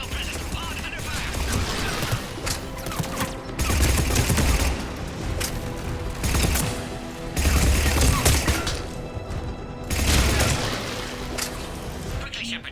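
Sustained gunfire erupts at a checkpoint in Mass Effect 3, loud rattling bursts rolling in waves with brief lulls between, mixed with voices and battle noise.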